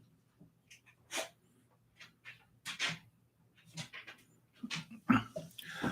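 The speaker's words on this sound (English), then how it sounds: "that was a friend of mine's dog that was visiting" A visiting dog whimpers and breathes close by, with short snuffling bursts and soft whines at an uneven rhythm over quiet room noise, with no talking.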